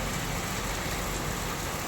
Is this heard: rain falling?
yes